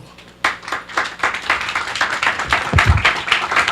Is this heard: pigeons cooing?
no